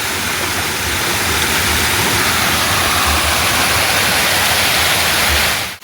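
Parayaruvi waterfall flowing, a loud, dense and constant roar of rushing water that fills the whole stretch without a break.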